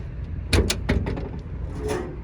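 The trunk lid of a 1966 Plymouth Barracuda pops open with a couple of quick metallic clunks close by, followed by a softer rustle as it settles.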